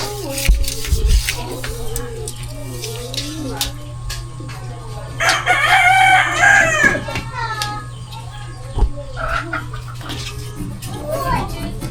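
A rooster crows loudly and near in a rural yard with hens clucking, one long crow in the middle, with people talking and children's voices around it.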